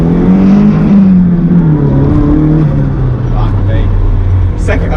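An SR20DET-swapped Datsun mini truck pulls hard in first gear, its engine note climbing steadily in a loud, close, buzzing drone.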